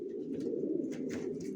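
Racer pigeons coo in a low, continuous murmur throughout, close and steady, with faint higher chirps drifting in now and then and no talking.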